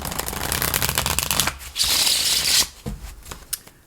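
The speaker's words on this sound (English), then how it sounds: "I'm going to shuffle a little slower, a little more cautiously." A deck of tarot cards is shuffled by hand, steady riffling and rustling that slows into a few separate slaps and flicks near the end, close and alone.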